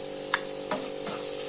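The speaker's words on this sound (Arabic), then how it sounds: "وغادي نرمي الشامبينيون" Mushrooms dropped into a hot pan, giving a couple of sharp hissing bursts over a steady close sizzle of frying, with no talking.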